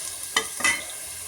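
Vegetables are stirred into frying onion and tomato in a pan for vegetable biryani, two brief scraping stirs over a soft sizzle.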